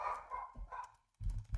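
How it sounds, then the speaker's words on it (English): A dog barks a few times in the background of a podcast recording, short muffled barks separated by brief pauses, fairly faint. "Somebody's dog is Not mine this time."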